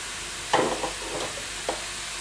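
Grated carrot roasting in ghee in a pan for gajar halwa, a soft sizzle with a couple of brief stirring scrapes, close and moderately loud, no speech.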